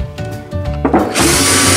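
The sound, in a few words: power drill drilling holes into plastic gallon milk jug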